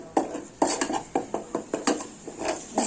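Ginger-garlic paste is stirred in ghee in a wok, a series of sharp metallic scrapes and clinks of a spoon against the pan at an irregular rhythm, close and fairly loud, with no voices.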